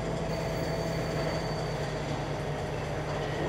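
Train from Farming Simulator 19 rolling steadily, a continuous low rumble with a faint steady hum, unbroken and even throughout with no talk.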